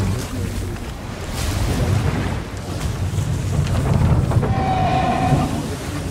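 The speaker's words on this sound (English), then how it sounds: "Massive waves are coming through." Massive ocean waves in a video game roar as a loud, continuous rushing surge that swells and builds over several seconds, with no speech.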